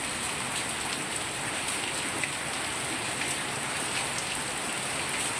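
Heavy rain pours down steadily, a dense, even hiss of drops striking surfaces nearby with no break, with no voices.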